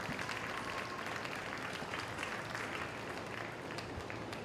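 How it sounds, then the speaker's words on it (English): Audience applause for senior showmanship contestants at a county fair beef show, a steady, dense wash of clapping that holds evenly from start to finish at moderate, somewhat distant level. "Let's give them a round of applause for a job well done this evening."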